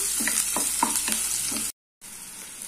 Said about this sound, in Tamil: இது கூடவே நான் கொஞ்சமா கருவேப்பிலையும் சேர்த்துட்டு இந்த வெங்காயத்தை கொஞ்சம் நல்லா வதக்கிக்கலாம்.